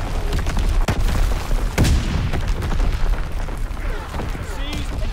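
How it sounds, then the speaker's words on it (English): Incoming enemy artillery fire in a multiplayer shooter video game, loud booming blasts and rumbling impacts layered over a dense, continuous battle din. "Incoming enemy artillery."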